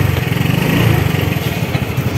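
A Yamaha Mio Gear 125 scooter engine runs close and loud with a steady, throbbing putter that rises briefly and settles, with no talk.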